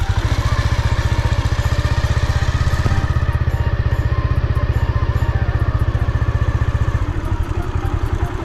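A motorcycle engine runs loud and close, a steady rapid thumping that keeps an even rhythm throughout.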